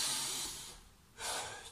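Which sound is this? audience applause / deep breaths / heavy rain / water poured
deep breaths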